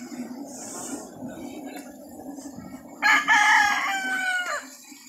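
A rooster on a chicken farm in Balayan lets out one clear, fairly close crow lasting over a second, following quieter clucking and low background murmur.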